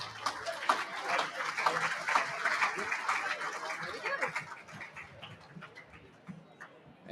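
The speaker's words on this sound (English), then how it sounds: "A final round of applause for the 5 winning clubs this season." Audience applause for the five winning clubs at the 2023 EFNL Chandler Medal Night, a football netball league awards evening: moderate, steady clapping from a room, mixed with crowd murmur, easing off toward the end.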